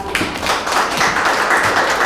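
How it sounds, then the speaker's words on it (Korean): An audience at a city policy idea contest presentation applauds the presenter, a loud, dense burst of many hands clapping together, sustained and close. "발표해주신 발표자분께 큰 박수 부탁드립니다"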